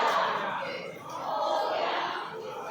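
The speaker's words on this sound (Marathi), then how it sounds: "बघा मंदिरामध्ये किती गर्दी आहे." Dense crowd murmur inside a Ganpati temple during a palkhi procession, a steady wash of many voices close around with no single speaker standing out.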